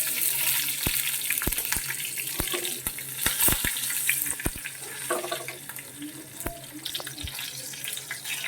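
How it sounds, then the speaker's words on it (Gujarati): Mustard seeds splutter in hot oil, with hing, curry leaves and chili pieces, as a tempering for corn dhokla. Sharp crackling pops burst irregularly over a continuous close sizzle. "રાઈને ચટકવા દઈશું."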